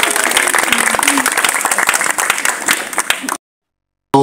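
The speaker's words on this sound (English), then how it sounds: "Somebody give them both a round of applause." Wedding guests at a Jamaican ceremony applaud the newlyweds with loud, dense clapping for about three seconds, then it cuts abruptly to silence before a brief burst resumes.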